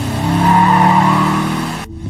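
A car skids away on tires with a loud, sustained squeal and engine roar lasting nearly two seconds, then cutting off abruptly into near silence.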